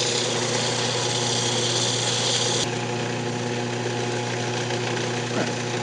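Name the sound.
wood lathe spinning while sanding yew box with 600-grit sandpaper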